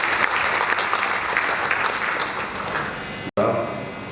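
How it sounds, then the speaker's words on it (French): An audience at a ceremony of the Cercle Sophie Kanza breaks into loud, sustained applause, dense and even, which cuts out abruptly near the end before resuming briefly. "Madame la Présidente, applaudissements."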